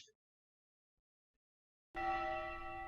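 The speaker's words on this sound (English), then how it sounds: "And the bell just becomes ever more insistent." A bell clangs insistently in a sudden burst after near silence, its bright sustained ringing tones loud and close, continuing steadily to the end.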